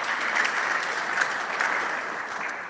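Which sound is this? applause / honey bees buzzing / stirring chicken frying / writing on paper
applause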